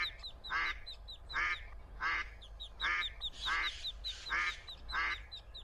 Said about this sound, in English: Man, these ducks are low as fuck!